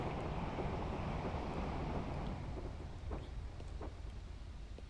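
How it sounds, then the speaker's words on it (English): A tractor engine rumbles past, heard from a Class 101 train, with a heavy, low drone that slowly eases off, mixed with wind noise. "And there goes a tractor."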